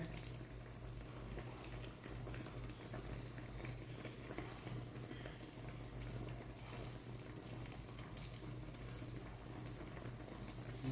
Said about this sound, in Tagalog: Pakuluin lang natin ng pakuluin.